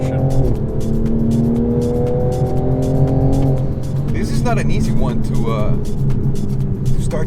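A Toyota Supra's engine revs and accelerates while driving, holding a steady rising drone with shifting pitch; people talk over it throughout.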